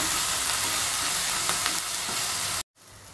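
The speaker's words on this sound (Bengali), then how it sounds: "মশলাটা আমার ভাজা হয়ে গেছে" Ginger and garlic paste frying with onion in a pan, a steady close sizzle with faint stirring scrapes that cuts off abruptly near the end, leaving quiet room tone.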